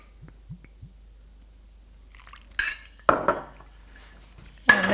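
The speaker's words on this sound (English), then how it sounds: "make sure you push them down into the milk and make sure each bit gets covered in the almond milk" Dates are pushed down with a utensil into half a cup of almond milk in a dish. Faint soft taps come first, then a few louder clinks and scrapes of metal on the dish, close up.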